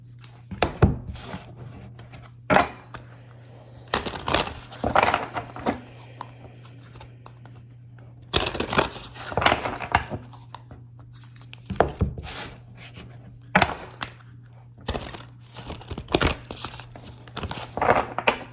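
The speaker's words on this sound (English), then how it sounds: "I tend to love to shuffle in threes." A deck of cards is shuffled in repeated bursts of riffling and flapping, each short flurry of crisp paper slaps separated by pauses, over a low steady hum in a quiet room.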